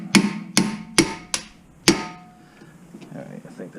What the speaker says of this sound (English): so a couple good whacks with the hammer on this.